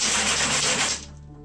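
Scraping inside an Aduro wood-burning stove during sweeping and cleaning, a dense gritty rasp that keeps up steadily for about a second and then stops, leaving a quieter low hum.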